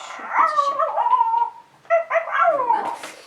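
A small electronic toy dog gives high, whiny yips and howl-like barks, two bursts with a short pause between, close and clear.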